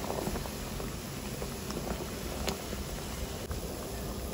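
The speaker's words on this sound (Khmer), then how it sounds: "ទឹកស្កររបស់យើងបានពុះហើយ" Sugar syrup for ginger candy boils in a pan with a soft, steady bubbling hiss and faint scattered pops, quiet and continuous.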